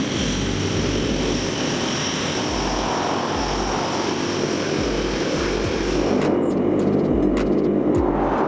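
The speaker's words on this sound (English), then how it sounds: "Antonov An-22 Ante, one of the largest turboprop-powered aircraft, used for transporting large and heavy loads." Antonov An-22 turboprop cargo aircraft, one of the largest turboprop planes, with a loud steady engine and propeller roar throughout, a broad rumbling drone that shifts slightly in tone near the end.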